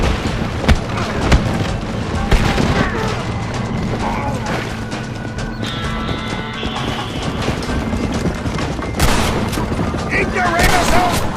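Rapid gunfire in Red Dead Redemption, dense bursts of shots and booming reports in quick succession throughout, with voices shouting among the shooting.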